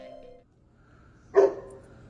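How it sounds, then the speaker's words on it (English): A single short dog bark sounds at a moderate distance in a quiet outdoor night setting, one sharp yelp after a faint murmur. "That's a dog."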